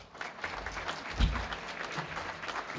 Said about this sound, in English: I'd like to have you give a round of applause for Elizabeth Lindemeyer